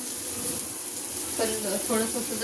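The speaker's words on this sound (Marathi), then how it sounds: "आता कांदा मस्त भाजला" Onion roasting in a pan for a Maharashtrian mas vadi recipe, a steady broadband sizzle running throughout, with people talking over it in the second half.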